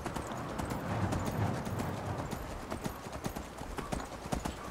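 Horse hooves clip-clop in a steady trotting rhythm in the video game Skyrim, close and moderately loud, with no voices.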